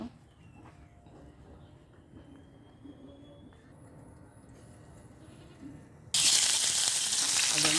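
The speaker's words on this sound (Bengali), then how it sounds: "ভালো করে মাছগুলো ভেজে নেব।" Tatu fish frying in a pan bursts into a loud, steady sizzle partway through, after a stretch of quieter kitchen clatter and low background noise.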